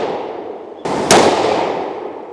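Two sharp rifle shots from a Tikka T3x in .22-250 with a 26-inch 1:8 twist barrel, the second following closely on the first, each loud and abrupt with a ringing decay.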